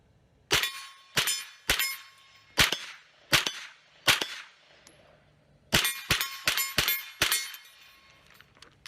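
Rifle fitted with a laser sight firing at steel targets: a dozen sharp shots, each with a ringing metallic clang, spaced roughly half a second apart in two bursts separated by a short pause, loud and close.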